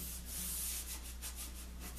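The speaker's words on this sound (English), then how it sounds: "some sanding obviously." Steady abrasive rubbing of sandpaper on a wooden pool table light, a continuous hiss with rhythmic back-and-forth strokes, close and fairly quiet, with no voices.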